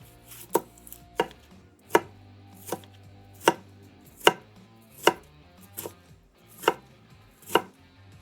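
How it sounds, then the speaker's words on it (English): Knife chopping an onion on a board, about a dozen crisp, evenly spaced chops, close and clear, with no talking. "And now let's chop up our onion."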